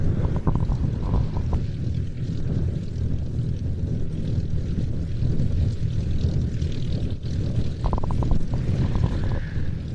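A Lockheed Electra Junior propeller aircraft drones steadily nearby in flight, a dense low engine roar with some wind buffeting on the microphone, continuing throughout.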